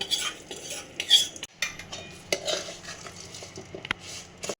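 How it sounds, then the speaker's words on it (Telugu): Coriander seeds and salt mixed by hand in a bowl, giving soft gritty rustles and scraping bursts that come in uneven strokes, close and fairly quiet. "ఇందులో కలిపేస్తాను ధనియాలు అన్నీ"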